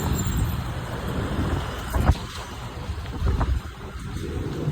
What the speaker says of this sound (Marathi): हे बघा टेम्पो.